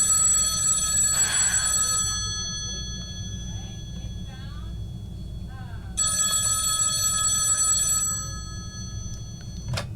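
An old-style telephone bell rings in a school drama class's stage play. Two bursts of shrill ringing, each about two seconds long, are separated by a pause with faint voices and room noise.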